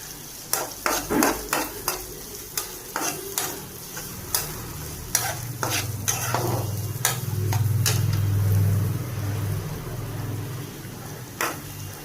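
Cashews and onion pieces fry in oil with cumin, a low steady sizzle under repeated sharp clicks and taps of a spoon stirring against the pan, with the sizzle swelling louder midway.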